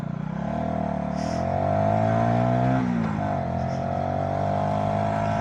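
A VOGE 125R motorcycle engine drones steadily while riding, its pitch rising gradually then briefly dipping and recovering as the rider shifts, a continuous close hum with wind rush.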